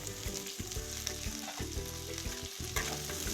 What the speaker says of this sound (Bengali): পেঁয়াজগুলো একটু ভাজা হয়ে গেলেই আমি কেটে রাখা ক্যাপসিকামটা তুলে দিয়ে ভালো করে ভেজে নেব